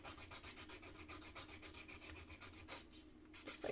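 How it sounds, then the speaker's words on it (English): An edge is sanded and filed by hand in an even rhythm of rasping strokes, about four per second, close and steady, before slowing to a pause and a final scrape. "I need to do a little bit more sanding and filing"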